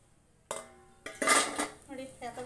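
Crispy fried chakli pieces drop into a metal vessel, giving a few distinct clattering knocks and rattles, close and moderately loud.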